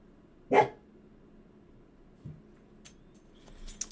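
A dog gives one sharp bark nearby, followed by a faint second yelp in an otherwise quiet room, with light clicks at the end.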